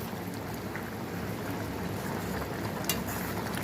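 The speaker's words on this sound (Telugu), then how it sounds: "ఇంత బాగా మరిగిస్తుందో" Prawn and okra curry bubbling in a pot, a steady close broadband burbling and hiss that continues evenly throughout with no talk.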